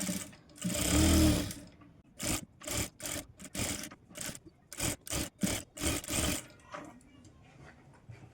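A sewing machine stitches the sleeve of a designer blouse in short runs: one longer whirring burst followed by a quick series of brief, rhythmic stitching spurts, close and fairly loud, with quiet gaps between them.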